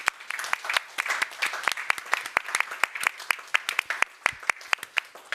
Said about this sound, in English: A round of applause for our panelists, please.